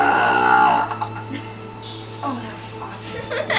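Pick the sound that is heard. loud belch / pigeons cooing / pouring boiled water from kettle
loud belch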